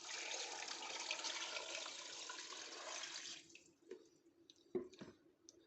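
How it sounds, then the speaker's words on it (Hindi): Three litres of water pour from a container onto beef trotters in a cooking pot, a steady gushing splash for about three seconds, then a few trailing drips and clinks as the pour ends. "ये 3 लीटर पानी डालूंगी।"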